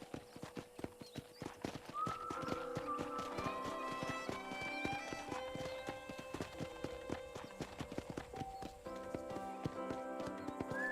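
Horse hooves clip-clop steadily in the Red Dead Redemption video game, a brisk rhythmic trot heard alongside game music and ambient sound.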